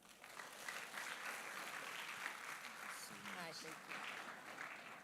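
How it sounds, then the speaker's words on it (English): Moderate applause from an audience, steady clapping that continues for several seconds, heard from a little distance with a brief voice rising through it. "A round of applause for her, please."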